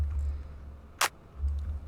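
A layered clap drum sample built from a kit clap stacked with the Brent clap, a single sharp bright hit standing alone over a low steady hum in a pluggnb beat.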